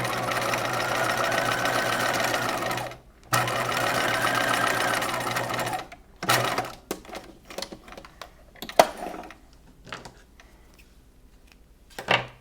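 Sewing machine stitching boning channels on a keyhole bodice, running in two sustained bursts and then breaking into short start-stop runs with pauses as the fabric is pivoted.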